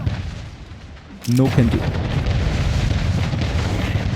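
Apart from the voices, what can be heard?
cannons firing at ships in video game Anno 1800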